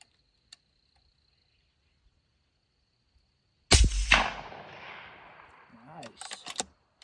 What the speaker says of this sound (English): I'm gonna take 3 or 4 shots here.